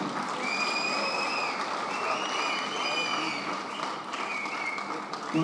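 Audience applause at a Kannada film's song release event in Hubballi, dense sustained clapping with some whistles riding on top, loud and steady before easing slightly near the end.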